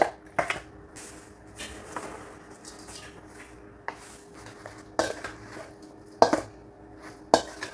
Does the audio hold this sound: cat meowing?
no